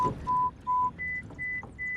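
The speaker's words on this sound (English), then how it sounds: "It makes you run a hearing test which sounds like this." An AirPods Pro 2 hearing test plays pure tone beeps, three steady notes at one pitch and then three at a higher pitch, evenly spaced, clear over faint background noise.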